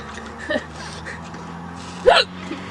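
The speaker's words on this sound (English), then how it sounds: "Hiccups will not stop." Two sharp hiccups from a small child, the first soft around half a second in and a louder one just after two seconds, on a quiet outdoor background with a low steady hum.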